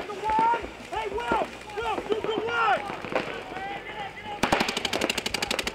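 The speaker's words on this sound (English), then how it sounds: "Chris wins the gunfight, making me eat my words and eliminating a Bandit player." Paintball markers firing in rapid bursts during a competitive paintball match, a quick rattling string of shots near the end, heard under a commentator talking over the play.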